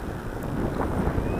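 Strong wind buffeting the microphone at an RC plane flying field, a steady loud low roar with gusty swells across the brief moment, with no voices.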